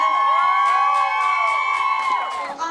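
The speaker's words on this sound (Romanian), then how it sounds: "În aplauzele voastre vreau să-i aplaudăm" Wedding guests in a reception hall cheer and whoop loudly as a steady, continuous crowd roar, with a faint rhythmic beat running underneath and the noise easing slightly toward the end.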